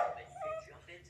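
A puppy gives a short whimpering yip, high and close, a single brief cry with faint background noise.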